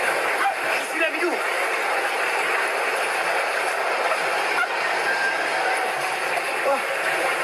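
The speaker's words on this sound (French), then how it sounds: "Le wagon qui dégringole." Railway wagon tumbling down in an audiobook sound effect, a loud continuous rumbling clatter with rattling, ratchet-like clicks and a few sharp knocks running the whole way through.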